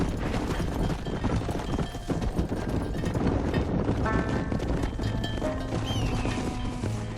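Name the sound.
horse hooves from video game Red Dead Redemption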